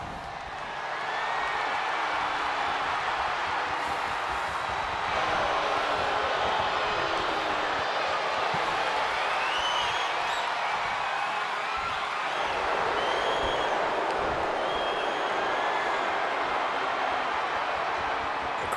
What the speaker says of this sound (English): Crowd's rowdy here, ladies and gentlemen, for this co-main event here.